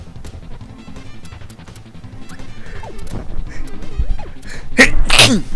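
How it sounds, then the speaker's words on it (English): A single sharp, loud sneeze near the end, heard over steady background music with electronic tones from the game Kirby Super Star. "Ooh, I gotta sneeze."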